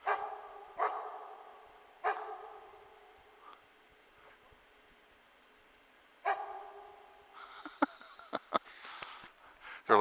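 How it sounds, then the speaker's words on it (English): Several dogs bark outdoors in short, sharp bursts spaced a few seconds apart, with a cluster of quicker yips and barks near the end; fairly close and alone, with quiet stretches between. "So look at the dogs over here."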